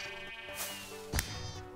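Sheep in the video game Sheep Quest, a short bleat heard close over a humming game background, brief and alone.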